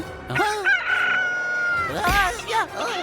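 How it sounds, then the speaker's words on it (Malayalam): A cartoon bird gives drawn-out, rooster-like crowing calls with warbling pitch, loud and near, in an animated episode with voices between calls. "ഈ പക്ഷി ഇത് എവിടുന്നാ പറന്നു വന്നത്?"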